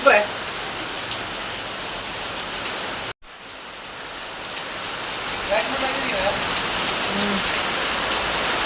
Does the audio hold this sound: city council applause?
no